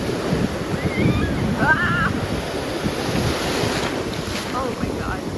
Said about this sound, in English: Some of these waves are pretty hard and some of them are so soft.